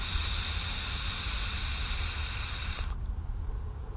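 A steady, loud hiss of vapor comes from an E-Phoenix Hurricane dual-airflow vape atomizer running at raised wattage, holding broad and even for about three seconds before cutting off abruptly into a quieter background.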